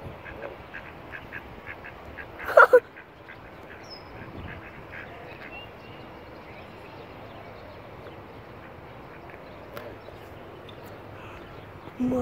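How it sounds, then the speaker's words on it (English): Ducks quack faintly and intermittently outdoors near geese, with one sharper nearby call early on and low ambient noise throughout. "Look at this one. It's a duck."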